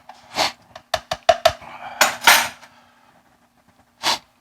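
A spoon scoops and dumps a homemade blackened seasoning mix, giving a string of close, sharp clinks and taps of metal on a container, followed by a pause and one last brief scrape.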